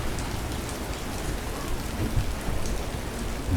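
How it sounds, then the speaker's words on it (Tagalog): A steady downpour of heavy rain hisses continuously during a morning storm in the Philippines, dense and even with no voices. "Lakas ang ulan."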